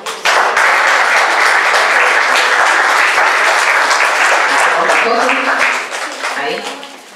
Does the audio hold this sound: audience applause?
yes